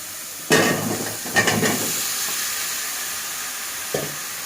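Eggplant and potato pieces drop into hot spiced oil, bursting into loud sizzling with stirring scrapes, then settling into a steady frying hiss with a brief knock near the end.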